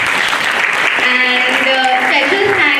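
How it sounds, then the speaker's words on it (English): Applause from students at the close of an event-anchoring workshop lecture, a steady dense wash of clapping lasting the whole stretch, with a voice rising faintly through the middle and end. "Can we have a round of applause for you?"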